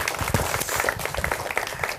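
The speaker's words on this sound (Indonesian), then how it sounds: "beri tepuk tangan dulu" A short burst of crowd applause, steady clapping from many hands for about two seconds.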